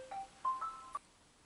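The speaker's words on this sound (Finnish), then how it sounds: "puhelin keskeytti tuossa" A mobile phone ringtone chirps a short series of electronic tones, three or four bright beeps in a quick rising pattern, faint and alone against a quiet room.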